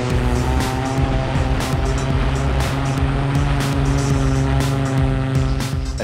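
Airspeeder Mk3 electric flying racing car lifting off on a salt lake, its multiple electric propellers giving a loud, steady, dense whine with strong tonal harmonics and no gaps.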